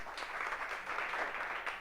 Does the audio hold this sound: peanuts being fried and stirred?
no